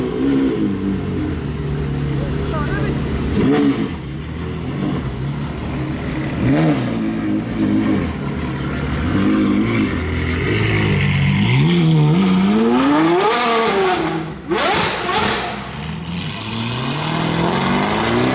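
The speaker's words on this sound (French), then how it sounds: "Échappement Novitec." A car fitted with a Novitec exhaust accelerates hard, engine rising loudly in pitch through the gears with a strong revving sweep near the middle, then snarling past up close in an outdoor street setting.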